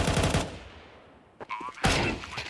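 Pistol fire in Counter-Strike during a pro tournament match sounds as a rapid burst of close shots, then a short lull and a few scattered shots with a brief ringing tone, followed by another loud burst.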